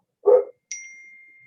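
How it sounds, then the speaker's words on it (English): A dog gives one short bark, followed by a clear, bright electronic ding that rings on and slowly fades, both close and alone without talk. "Now we get a bark and a ding."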